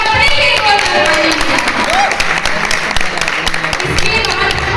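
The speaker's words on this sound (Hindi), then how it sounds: "एक बार अपने लिए एक बार ताली" Audience applause at a poetry anniversary event in Sitapur, a dense steady wash of clapping that runs through the whole stretch, loud and continuous, with crowd chatter mixed in.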